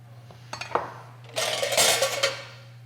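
A knife chops avocado for guacamole in a bowl, making a few light taps followed by a brighter clattering run of metal-on-bowl clinks over a steady low hum.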